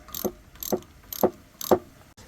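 A ratchet wrench loosens the bolt on a heat exchanger end cap of a Universal MP 25 XP sailboat engine, giving four sharp, evenly spaced mechanical clicks up close before the bolt comes free.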